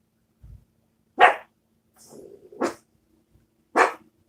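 A single dog gives three sharp, separate barks spaced about a second apart, close and loud in an otherwise quiet room, with a soft low growl between the first two.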